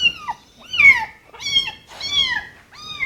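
A young orphaned kitten meows repeatedly and close, five or so high, plaintive cries in an irregular rhythm with brief pauses between them, and no talking over it.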